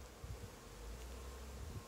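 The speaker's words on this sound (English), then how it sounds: "there's still quite a bit of bees there" Bees buzz softly around an open beehive whose colony has slowed down and is troubled by wax moths, a faint, steady hum with a few swells, alone.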